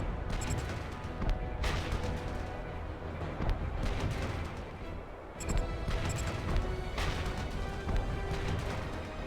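Heavy artillery fire in the video game Red Faction Guerrilla, on Mars: booming blasts and crashing impacts land every couple of seconds over a constant rumbling din.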